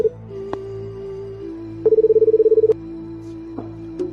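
Telephone number being dialed, a rapid run of about a dozen short, evenly spaced keypad tones in the middle, set against a steady dial tone with a few isolated clicks before and after.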